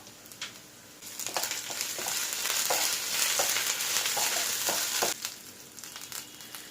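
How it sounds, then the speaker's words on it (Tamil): Onions sauté in a pan for a hotel-style liver dry roast, a steady close sizzle that swells midway, broken by repeated clicks and scrapes of stirring. "வெங்காயம் எந்த அளவுக்கு வதங்கணும், இந்த அளவுக்கு வதங்கினாதான் இந்த டிஷ் வந்து டேஸ்டா இருக்கும்."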